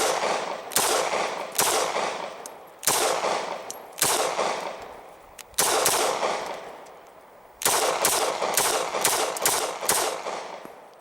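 Loud close gunshots fired into a thick book used as a ballistics target, sharp cracks in irregular single shots and quick clusters, each ringing briefly before the next, ending in a fast string of rounds.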